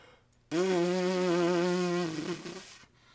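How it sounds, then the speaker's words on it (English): Lips buzzing as a brass trumpet player does, with lips pressed together and blown hard: a loud, sustained raspy drone starting abruptly, holding steady for about a second and a half, then sputtering out. "If I buzz my lips high or low, I can change the sound."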